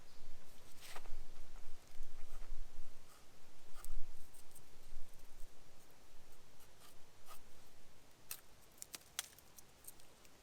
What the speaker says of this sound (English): with a piece of my charcoal, because there's lots of that around here at the moment, I'm just going to draw a square